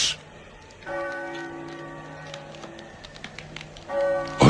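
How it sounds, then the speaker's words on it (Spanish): Church bells of San Juan del Duero toll with a sustained, ringing resonance, a struck peal hanging in the air and slowly fading, then struck again near the end. "Las campanas doblan."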